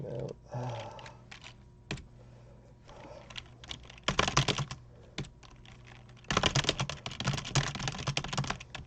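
Rapid typing on a QWERTY computer keyboard, close-up clatter of keys arriving in quick bursts separated by short pauses, with a couple of brief isolated taps.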